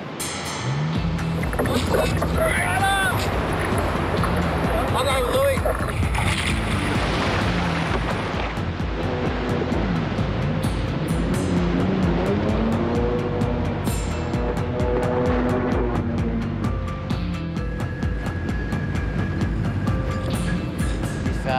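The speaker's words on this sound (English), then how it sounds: "Lifeguards launch the second jet ski." A lifeguard jet ski runs on rough surf water, its engine droning loudly and steadily for the whole stretch, mixed with waves and wind buffeting the microphone.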